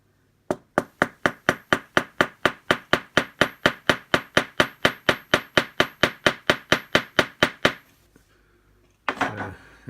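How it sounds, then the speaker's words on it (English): About thirty quick, evenly spaced small-hammer taps ring out on metal while riveting on a model locomotive, close and sharp, then stop; a brief rustle follows. "So we'll just get the little hammer"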